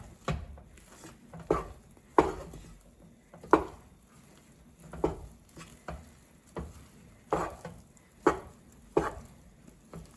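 Marshmallows being stirred with a wooden spoon for a treat made with graham crackers and chocolate, a steady series of sticky, squishing scrapes about once a second, close and alone.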